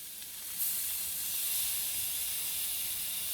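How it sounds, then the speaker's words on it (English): Lime juice squeezed onto a hot skillet of shrimp fajitas gives a steady, loud sizzle and hiss that swells at once and holds evenly throughout, close up, with no talking. "I'm going to add a little bit more of the lime juice."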